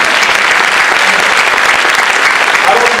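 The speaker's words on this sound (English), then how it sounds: "Let's give this lady a round of applause." Rally crowd giving a loud, sustained round of applause, many hands clapping densely and close with a few voices mixed in the roar.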